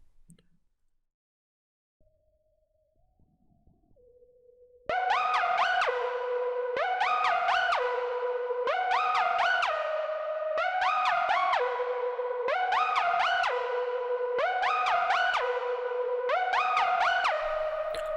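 After a few seconds of near silence and a brief held tone, the LD Screaming Glider synth from Muddy Cups Volume 2 plays a repeating pattern of bright, gliding notes that sweep upward in regular loud phrases, with an echoing tail.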